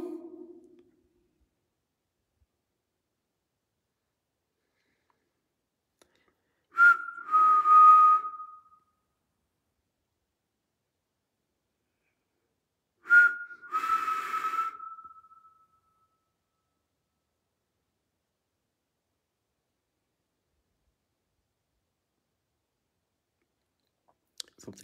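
A person whistles during a night investigation of an old sanatorium, two short whistled phrases several seconds apart in an otherwise silent, still space, clear and moderately loud.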